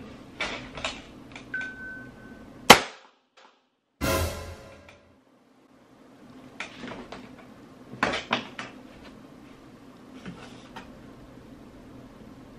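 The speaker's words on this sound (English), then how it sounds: "the Glock 17 Gen 5 paintball gun. Let's see this thing shoot." A Glock 17 Gen 5 paintball pistol fires, giving a sharp, loud crack followed soon after by a burst of noise, set among quieter clicks and handling clatter in an indoor room.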